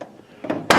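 A 1963 Chevy C10 pickup door swings and shuts with a brief rubbing creak followed by a solid metallic thud, close and loud at the end.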